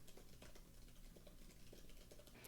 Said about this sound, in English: I do that just by typing them in here.